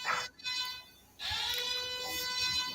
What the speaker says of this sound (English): I have my phone on airplane mode. So I don't know why it's beeping.